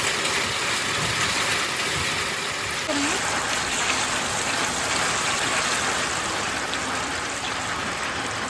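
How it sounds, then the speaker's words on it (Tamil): Heavy rain pours down steadily outdoors during a home cooking session, a continuous dense hiss with a brief clatter partway through, and speech occasionally audible beneath it. "மழையும் ரொம்ப பெருசாகவே பெய்ய தொடங்கிட்டு"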